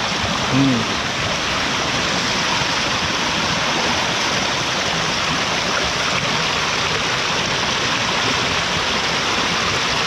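A Konkan stream swollen by the first monsoon rain flows at night, making a loud, steady rushing roar throughout. A faint voice is heard briefly near the start.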